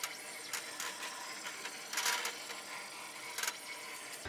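A Summit embroidery machine traces a design outline around a hooped varsity jacket, giving off a quiet, steady mechanical whir broken by soft clicks and brief motor bursts.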